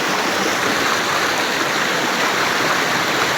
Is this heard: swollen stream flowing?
yes